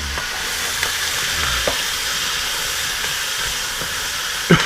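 Two roughly diced onions frying in a hot pan give a loud, steady sizzle and hiss throughout, close by, with a few faint clicks from stirring and no talking.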